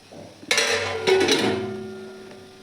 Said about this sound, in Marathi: आता झाकण ठेवून